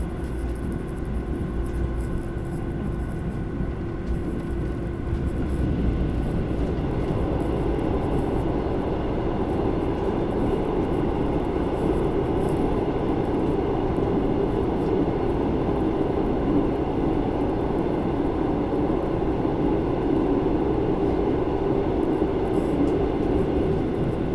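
A long goods train rumbles past, heard from inside a moving passenger train in South Korea, a dense low roar with rattling texture that swells slightly and holds steady for over twenty seconds, no voices.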